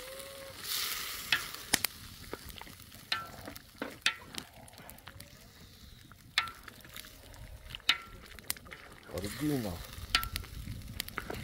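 Onions frying in a kettle over an outdoor fire for goulash in a yard, a steady soft sizzle with scattered clicks and scraping stir strokes, a brief word spoken near the start.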